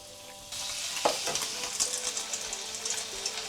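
Egg-dipped bread, coated with cinnamon, sizzles in melted butter in a pan; a soft hiss suddenly brightens into steady crackling frying with small pops, close and fairly quiet.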